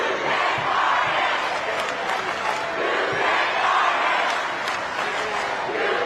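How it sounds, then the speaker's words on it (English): A large crowd at a high school 2A men's basketball state championship game roars and yells continuously, a dense, loud wall of cheering that swells and ebbs, with a commentator's voice faintly underneath. "Listen to this crowd."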